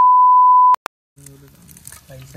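A single loud, steady censor bleep tone runs for under a second and cuts off sharply; a click follows, then people start talking over background noise.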